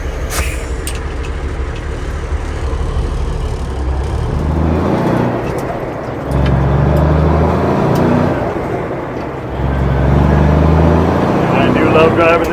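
A Pontiac Trans Am drives along with its engine droning steadily, rising in repeated surges as it accelerates through the gears, heard from inside the car.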